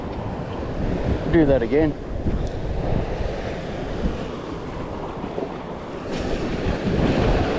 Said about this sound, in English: Wind's starting to pick up now.